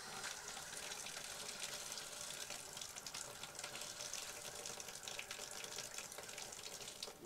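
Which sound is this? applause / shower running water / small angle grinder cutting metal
shower running water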